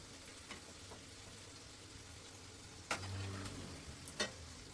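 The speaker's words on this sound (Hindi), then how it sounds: "धीमी आंच में ही इसे धीरे धीरे गोल्डन फ्राई कर लेंगे।" Sweets frying slowly in oil over low heat, a steady soft sizzle throughout with a few sharper clinks and scrapes as pieces are turned, fairly close and with no voices.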